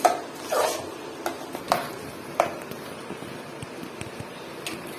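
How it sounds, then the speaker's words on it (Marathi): A spoon stirs jaggery in a pan over medium heat as it melts for puran poli, with a few soft scraping and clinking strokes at irregular intervals against a quiet background. "तर गूळ पूर्णपणे वितळेपर्यंत आपल्याला ह्याला छान असं हलवत राहायचं आहे."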